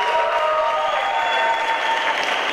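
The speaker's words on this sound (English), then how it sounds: "Sounds like the crowd's into it." A crowd at an MMA fight claps and cheers in a dense, continuous burst of applause that stays loud and even throughout.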